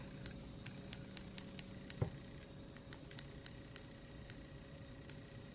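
Mechanical pencil with a lead indicator, clicked repeatedly up close: crisp, sharp clicks in a quick irregular series, then sparser clicks after a short pause, quiet and isolated with no speech.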